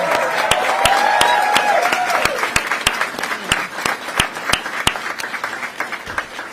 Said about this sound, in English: So let's applaud the team.